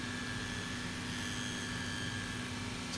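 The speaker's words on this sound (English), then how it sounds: "The soles get rough trimmed and then trimmed by a machine with a high-speed cutter." A carbide high-speed cutter machine trims the leather soles of Lucchese cowboy boots, giving a loud, steady whirring drone with a constant tonal hum that runs unbroken throughout.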